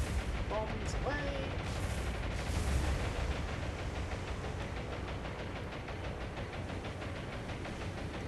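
Bombs released and exploding in the naval combat game War on the Sea, heard as a dense, continuous rumble of distant blasts and low booms rolling beneath brief whistling tones near the start.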